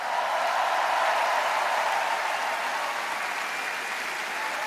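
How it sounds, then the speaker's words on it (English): Huge arena crowd at the Eurovision Song Contest grand final in Vienna applauds the contestants, a dense, continuous roar of clapping that holds steady and loud throughout. "it's time to give them a round of applause because they were amazing"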